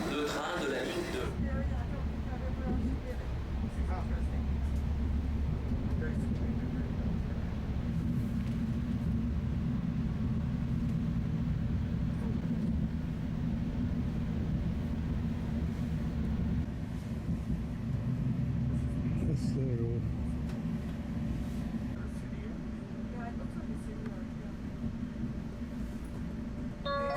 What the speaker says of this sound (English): Attention, le train de la ligne 2 en direction sud vers Lineback entre dans la station.